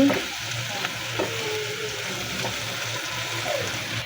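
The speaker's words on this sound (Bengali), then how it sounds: "এখন নেড়ে চেড়ে মশলাগুলো মিশিয়ে নিব, আস্তে আস্তে নাড়িয়ে মিশিয়ে নিচ্ছি।" Spices for chicken chaap fry in a pan as they are slowly stirred, giving a steady close sizzle with soft scraping movements.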